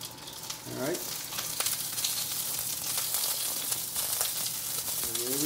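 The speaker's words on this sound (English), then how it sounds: "we're going to put in some onions really quickly, and that should sizzle" Onions hit a hot wok and sizzle in frying oil, a steady hiss with crackling pops and occasional scraping as they are stirred, fairly close and continuous throughout.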